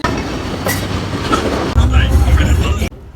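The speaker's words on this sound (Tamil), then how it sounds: "நாங்கள் போக வேண்டிய ட்ரெயின் இந்த முன்னுக்கு வந்து நிற்குது." A train on the Kandy to Matale line in Sri Lanka rolls into a station with loud rumbling and clattering wheels, a sudden heavier roar midway, then cuts off abruptly; faint voices in the background.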